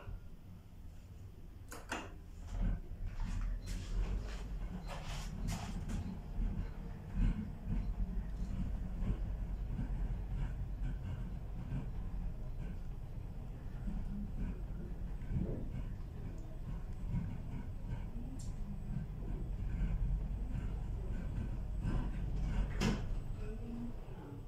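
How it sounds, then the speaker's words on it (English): Modernised Kone M Series lift in a Plymouth department store travels upward, a steady low rumbling hum of the moving car with occasional clicks and light knocks throughout, fairly constant in level. "Going up."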